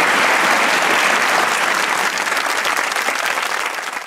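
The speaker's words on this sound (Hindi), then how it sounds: "अलीशा के लिए तालियां हो जाए" A studio audience gives a loud burst of applause for a guest on a Pakistani talk show, the dense clapping starting strong and slowly tapering off, with no voices over it.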